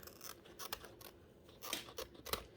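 Scissors snipping a paper envelope pouch, a few quiet close cuts with crisp crunchy paper rustle in between, irregular and faint.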